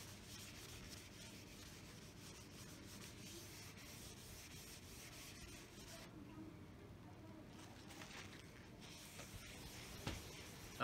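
Hand sanding the finish on a guitar body with fine sandpaper, a continuous close rubbing and scratching that stays steady and fairly quiet, with a brief pause near the middle.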